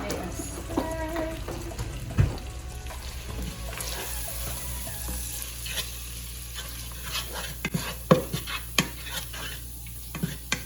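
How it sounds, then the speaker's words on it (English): Fried cabbage seasoned with cayenne pepper sizzles in a pan while a utensil stirs and scrapes it, with scattered clinks and scrapes over a constant frying hiss. "we are going to give it a stir."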